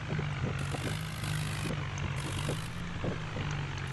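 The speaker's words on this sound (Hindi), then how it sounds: "टायर स्लिप हो रहा है, फुल ताकत लगा रहा है भाई ट्रैक्टर" A Swaraj tractor in a video game strains with a steady droning engine hum and tyres slipping, loud and continuous, with faint rhythmic tyre noise underneath.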